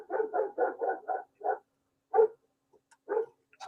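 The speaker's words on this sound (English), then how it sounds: "sorry if you guys can hear some barking in the background." A dog barks in the background, a rapid burst of about six loud barks followed by a few scattered single barks with pauses between, with no talking over them.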